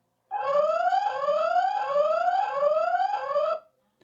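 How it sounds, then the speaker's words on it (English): Siren on the base of an XMARTO tri-lens WiFi mesh security camera system, a loud electronic alarm sweeping upward in pitch over and over, about five rising whoops in a steady rhythm before cutting off. "On the bottom, you have this siren."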